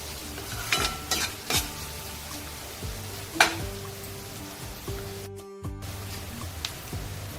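Finely chopped onions frying in a pan for a dried bombil masala, a steady close sizzle broken by stirring scrapes and a few knocks of a spoon against the pan.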